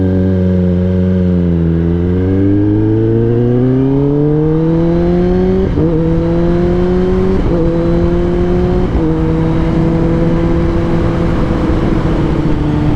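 A 2021 Kawasaki ZX10R with an M4 exhaust, ridden, its loud engine note rising through the gears with upshifts that drop the pitch before it climbs again, steady and close with no talk.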